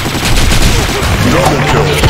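Rapid, loud gunshots in a competitive shooter game fire in a dense, continuous volley, close and heavy, with a voice briefly audible in the mix.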